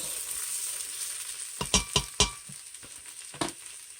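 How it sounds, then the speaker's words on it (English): Pork and onions sizzle steadily in an Instant Pot while browning, with a spatula scraping and stirring in a few sharp clacks against the pot bottom. "Just kind of letting that cook up a little bit, brown the edges, release some of that aroma from the onions."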